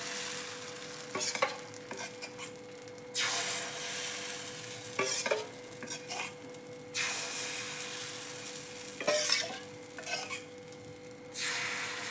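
Pitha batter cooking in an iron pan on a gas stove, soft hiss and sizzle rising in repeated bursts every few seconds between quieter stretches, close and moderately loud with no talking.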